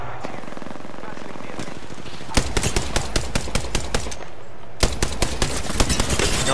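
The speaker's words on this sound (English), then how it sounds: "the other team is shooting me" Rapid automatic gunfire from an opposing team in a multiplayer shooter game, loud and close in two sharp bursts of evenly spaced shots over a steady background din of game sound.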